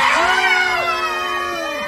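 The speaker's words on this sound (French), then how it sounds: "vous allez tellement vous faire peur que d'un seul coup vous allez vous mettre à crier maintenant" A hypnotized theatre audience at a stage hypnosis show screams in fright all at once, many overlapping high wails and shrieks loud and near, sliding and fading together.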